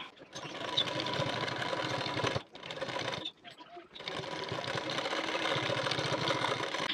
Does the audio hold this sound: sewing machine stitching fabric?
yes